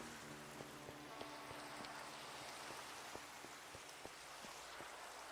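Soft, continuous rainfall patters in the Minecraft game world, with scattered light droplet ticks over a steady hiss; faint and even throughout with no voices.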